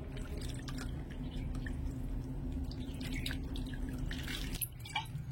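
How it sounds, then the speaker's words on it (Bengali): Water trickles and drips over chhana made from milk powder as it is rinsed, a soft continuous pouring and splashing sound, close and fairly quiet. "এবারে উপর থেকে আমি অল্প অল্প করে জল দিয়ে ছানাটা একটু ধুয়ে নেব।"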